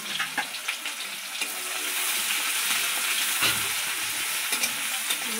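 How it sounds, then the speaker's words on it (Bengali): Crushed ginger, chopped onion and garlic fry in a pan with a loud, dense, continuous sizzle, broken by a few stirring scrapes near the start and middle. "এগুলো একটু ভেজে নেব।"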